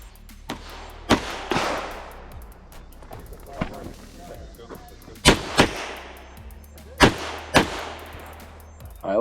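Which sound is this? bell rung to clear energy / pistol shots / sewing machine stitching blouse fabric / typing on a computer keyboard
pistol shots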